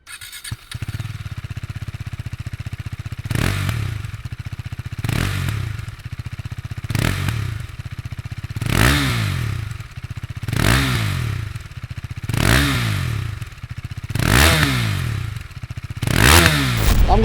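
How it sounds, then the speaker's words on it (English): 2017 KTM RC 390 with its new side-mounted exhaust, a single-cylinder engine idling then blipped in a series of sharp rev bursts with quick falloffs, close and loud. "what the new side-mounted exhaust on the 2017 RC 390 sounds like"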